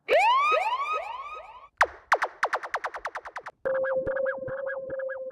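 Three electronic siren effects in sequence within a UK garage music track: rapid swooping wails, then a fast pulsing series of rising chirps, then a warbling two-tone alarm, loud and synthetic.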